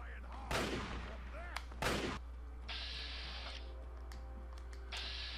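Two loud, sharp hunting rifle shots crack about a second apart in the Fallout 3 video game, each followed by a short echoing tail, then softer clattering game effects.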